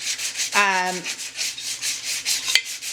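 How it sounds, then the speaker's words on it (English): A glittered cup is sanded by hand with 400 grit sandpaper in light, steady rubbing strokes, a soft repetitive scratchy hiss close to the mic, with one brief squeak early on. "I'm going to just show you the way I sand a cup"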